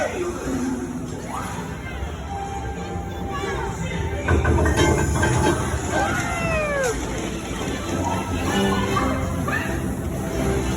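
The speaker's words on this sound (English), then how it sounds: "let's take that runaway train!" Runaway train ride on the Mickey & Minnie's Runaway Railway attraction, with rumbling rail noise and cartoonish whistling and squealing effects in a busy mix, while voices talk and call out over the top.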